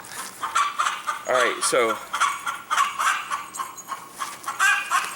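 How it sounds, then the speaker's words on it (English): Chickens cluck nearby in a garden in short, repeated bursts, with a brief spoken phrase mixed in. "That's our chickens back there talking."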